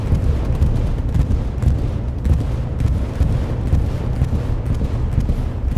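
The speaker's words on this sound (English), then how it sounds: "501st BST2 bombing run. Straight through the strong point." Continuous dense rumble of bombing-run explosions in the World War II shooter Hell Let Loose, with heavy overlapping booms rolling steadily throughout, loud and close, with no talking.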